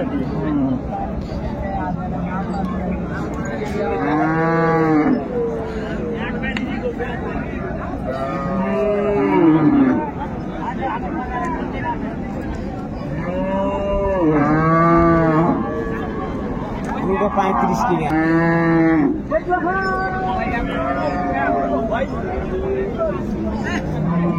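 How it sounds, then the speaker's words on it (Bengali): Dairy cows and calves at the Raniganj cattle market in Dinajpur moo repeatedly, loud and close, with long drawn calls every few seconds over a steady murmur of crowd chatter. "বেশ সুন্দর মানের গাভী বাছুর"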